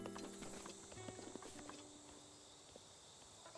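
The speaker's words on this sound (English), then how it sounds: "There's some horses here." Horse hooves clip-clop at a stable in Zelda: Breath of the Wild, quiet scattered steps in the first half over a faint bed of chirping insects, fading into soft ambience with no voices.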